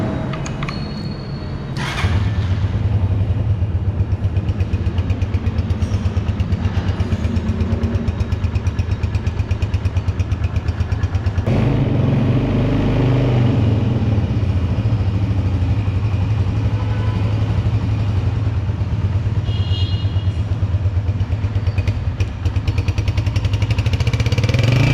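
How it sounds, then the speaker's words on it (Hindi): A 2025 Honda CG125 Chrome Edition motorcycle starts up after a brief pause, then settles into a loud, steady single-cylinder idle with a short throttle blip midway, running close and alone. "तो अब चलते हैं इस मोटरसाइकिल के साउंड टेस्ट की तरफ।"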